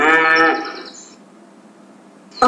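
A cow on a farm gives a loud, close moo that starts strongly and trails off, followed by quiet and then the start of another call.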